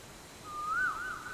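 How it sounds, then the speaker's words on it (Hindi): An Asian koel calls once outdoors in a scenic spot, a single clear rising and falling whistled note heard faintly against a quiet background. "ये तो कोयल की आवाज है।"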